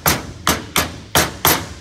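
A rubber mallet taps a differential part into place in five sharp, evenly spaced thuds, close and loud with no talking.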